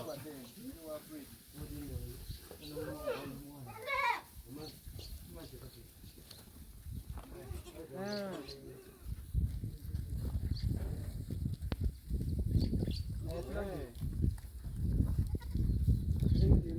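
Goats on a goat farm in Kamuli District give several scattered bleats, close and fairly loud, mixed in with steady conversation and farmyard background noise.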